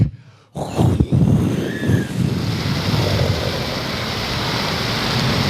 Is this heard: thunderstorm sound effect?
yes